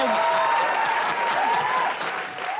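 A comedy show audience claps in steady, fairly loud applause that runs continuously for a couple of seconds and eases off slightly at the end, with faint voices mixed in.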